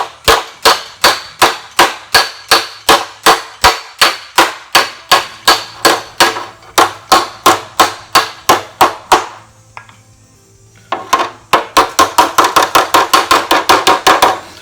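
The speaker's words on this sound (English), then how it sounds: "Want to use the hand I have the most control with the hammer." A hammer taps on the metal grill assembly of a 1947 Ford street rod: steady, close, sharp metallic blows in a regular rhythm, a brief pause, then a quicker run of taps. No voices.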